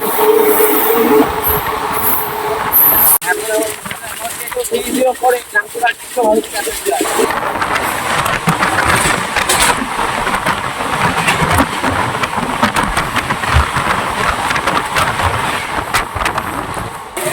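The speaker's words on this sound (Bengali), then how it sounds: "ট্রেন বর্ধমান ছেড়ে দিয়েছে" The Ganadevta Express runs on rails after leaving Bardhaman, with a continuous close rumble and clatter of wheels on track that grows rougher. A voice is heard over it in the first half.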